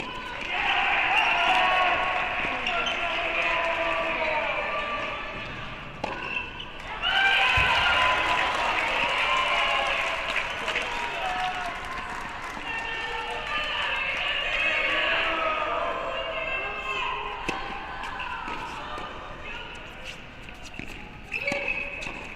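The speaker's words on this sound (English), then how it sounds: "You can hear the crowd." Spectators at a women's college indoor team tennis championship fill a packed hall with sustained cheering and applause that swells, dips briefly, then rises again, with squeaking shoes and scattered thumps underneath and a commentator talking over it.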